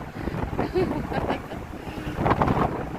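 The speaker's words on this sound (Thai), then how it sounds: "ลมแรงค่ะ ทุกคน" Strong wind buffets the microphone on the deck of a Hurtigruten ship, a Norwegian cruise ship, as a constant loud rumbling roar with gusty swells and faint traces of surrounding sound.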